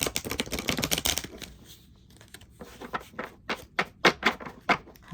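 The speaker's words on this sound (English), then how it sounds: "I'm just gonna shuffle these cards." A Shaman Dream Oracle card deck is shuffled by hand close up, with quick flurries of papery riffles and taps, then a series of separate soft slaps and flicks, no talking.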